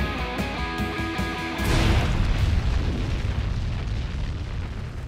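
An avalanche gun fires at a ski mountain: a heavy boom cuts through a brief tonal passage, then rolls into a long, rumbling echo that slowly fades.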